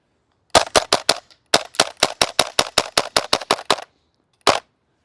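A Krytac KRISS Vector gas blowback airsoft SMG fires BBs in sharp, evenly spaced shots, a quick run of four, then a longer string of about a dozen, and finally a single last shot after a pause, all close and otherwise quiet.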